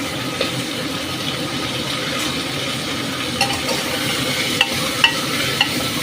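Rice and chana dal being stirred with spices in a pot, a steady soft scraping and sizzling texture with a few faint clinks of the utensil against the metal, no voices.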